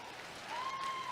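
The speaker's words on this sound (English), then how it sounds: "Let's give them a good round of applause." An audience at a 4-H and FFA county fair sheep show applauds the winners, a brief soft patter of clapping with a thin feedback-like tone rising over it.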